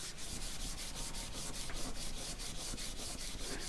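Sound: rubbing dried glue off fingers

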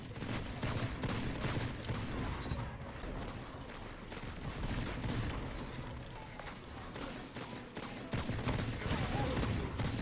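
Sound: gunfire in a shooter video game

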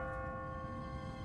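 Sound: church bell ringing in video game The Walking Dead

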